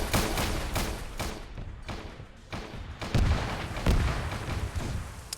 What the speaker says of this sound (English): Man, these rockets hurt.